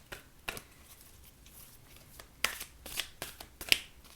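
Oracle card deck being shuffled by hand, a few soft papery riffles and taps spaced irregularly, close and quiet with no talking.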